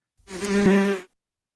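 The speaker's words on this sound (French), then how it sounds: "j'ai mis un petit son de bourdon" A bumblebee buzzing sound effect played from SMART Notebook interactive whiteboard software, a steady droning buzz lasting about a second, loud and alone with no talk.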